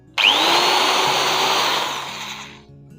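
An electric hammer drill machine for home use whirs up sharply and runs at a steady, loud pitch for a couple of seconds before winding down, heard close and alone.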